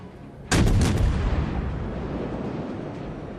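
Guns of the cruiser Cleveland firing in World of Warships: a sudden salvo of several rapid booming shots close together, followed by a long rumbling decay, with no talking.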